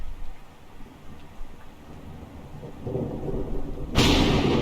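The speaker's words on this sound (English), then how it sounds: "Thunder crackles once again, cutting me off." Thunder in a horror visual novel scene, with rain hissing steadily and low rumbling building over several seconds before a loud, close crack bursts out near the end.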